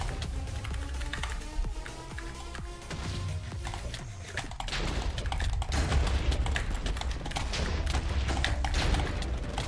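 Rapid keyboard typing clatters steadily at close range under dense game-combat noise from a Minecraft crystal PvP battle, with thumps and bursts layered throughout.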